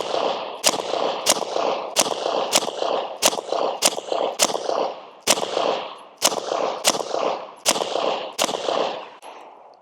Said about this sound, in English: let's go ahead and put some rounds down here, about 7-10 yards, and let's see what kind of accuracy I get